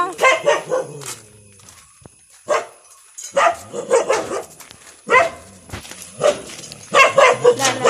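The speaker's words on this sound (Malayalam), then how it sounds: "പട്ടി" A dog barks in repeated loud bursts, several sharp woofs in a row, with short pauses between volleys; no talking.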